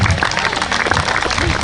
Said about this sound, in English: A big round of applause to her.